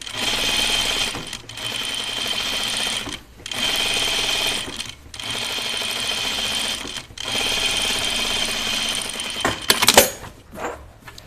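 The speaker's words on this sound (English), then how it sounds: "Just sewing down my seams since I'm not doing any seam finishing." A sewing machine stitches down dress seams in long, steady runs of several seconds each, separated by brief pauses, with a few clicks and handling noises at the end.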